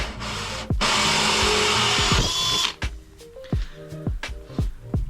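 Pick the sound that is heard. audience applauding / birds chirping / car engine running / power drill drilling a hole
power drill drilling a hole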